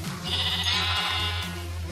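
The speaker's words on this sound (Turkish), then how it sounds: "Bedava da koyun aldım." A single sheep in Minecraft bleats once, a drawn-out wavering call lasting over a second, close and clear, over a faint low hum.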